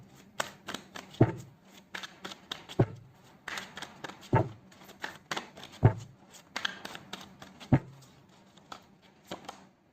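Tarot cards are shuffled and pulled one by one, giving a run of soft papery riffles broken by several sharper slaps and taps. They sound close and quiet, with no voices over them.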